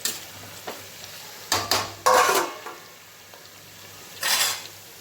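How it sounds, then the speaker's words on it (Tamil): Onions sautéing in a cooking pan for a chicken curry, a faint steady sizzle broken by a few clattering stirs and scrapes of a utensil against the pan, with no one talking. "வெங்காயம் வதங்கிடுச்சு."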